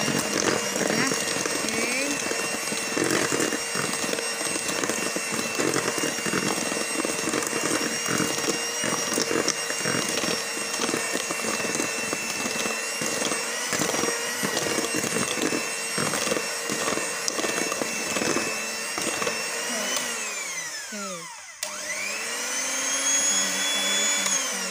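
Electric mixer beating flour into steamed cake batter, a continuous whirring motor hum with a steady high whine and clattering against the bowl, cutting off briefly near the end before starting again.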